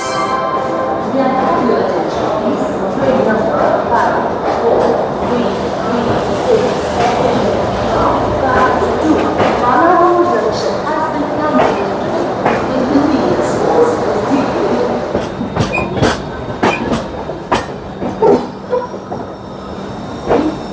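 The Durg Kanpur Betwa Express runs on rails, a loud steady rumble of wheels and carriages with rhythmic clacks and occasional squeals, while people talk over it inside the train.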